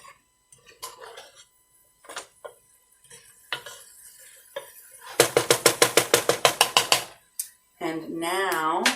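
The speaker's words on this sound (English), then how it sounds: "Make sure you stir the spices in really good." A spoon stirs spices into beer cheese soup in a pot, making a quick run of about a dozen rhythmic metallic scrapes and clinks, with scattered taps before and a voice speaking at the end.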